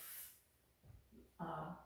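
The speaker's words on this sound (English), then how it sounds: "I'm going to just liberally spray" A short hiss of cooking spray is applied to a baking pan lined with parchment paper for gluten-free cinnamon rolls. A brief faint burst is followed by a louder, close spray lasting about half a second.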